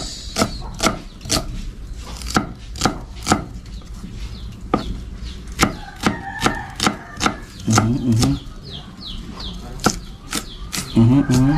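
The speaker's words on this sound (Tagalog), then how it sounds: "hiniwa na ang sibuyas" A knife chops an onion on a cutting board in quick, regular strokes, each sharp knock landing close and clear in a steady rhythm over a quiet kitchen background.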